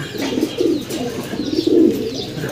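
Racing pigeons cooing in a loft, a few soft low coos rising and falling close by over a short stretch, with no talk.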